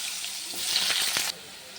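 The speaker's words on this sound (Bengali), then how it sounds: "এই দেখো আলুটা ভাজা হয়ে গেছে" Potato pieces fry in oil, a soft continuous sizzle that rises briefly with a few stirring scrapes, then drops to a quieter hiss.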